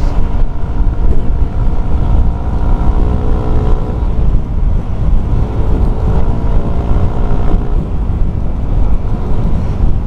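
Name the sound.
Yamaha NMAX bore-up motorcycle engine revving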